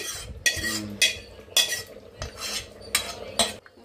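A utensil stirs gongura chicken curry in a pot with repeated scraping strokes and metallic clinks against the sides, loud and close in a steady rhythm.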